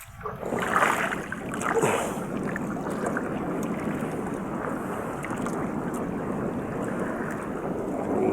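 Wind rushes steadily over rough open sea with a continuous roar of waves, heard from a fishing trip at sea, gusting louder near the start and buffeting the microphone.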